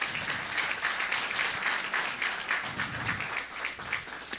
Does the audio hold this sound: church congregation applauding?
yes